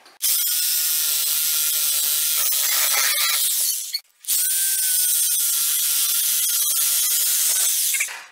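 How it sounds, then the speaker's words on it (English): A reciprocating saw cuts through a deer's skull to remove the skull cap, a loud, continuous buzzing rasp running almost unbroken for about four seconds, a brief pause, then another long steady cutting burst, close and with no talking. "we're going to do it with a Sawzall"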